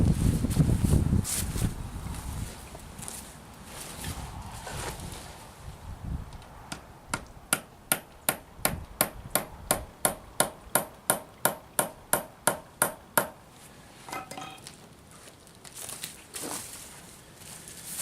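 A hammer taps the tip of a steel spike, used as a makeshift dowel for a bucksaw, to blunt it. Around twenty sharp ringing metallic pings come close together in a steady run, following some wind and handling noise.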